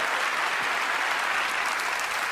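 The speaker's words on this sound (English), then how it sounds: "Give him a round of applause for volunteering." Audience applause for a volunteer at a magic show, a dense, even wash of many hands clapping that holds steady and fairly distant from start to finish.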